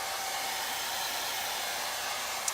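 A hair dryer runs steadily on a craft surface, drying a chalk paste transfer, a constant close whooshing hiss of blown air with no pauses.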